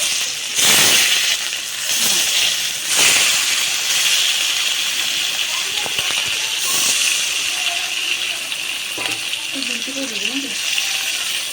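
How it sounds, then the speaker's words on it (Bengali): Fish frying in hot oil for a light fish curry makes a loud, continuous hissing sizzle, with a few surging bursts as pieces are turned or added. "বাকি মাছগুলো ভেজে নেবো একইভাবে"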